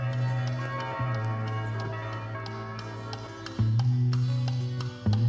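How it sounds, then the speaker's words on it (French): Church bells in Timișoara, Romania ring out in a steady series of resonant strikes, their tones overlapping and sustaining, with faint background ambience and no talk. "Avec les cloches, magnifique."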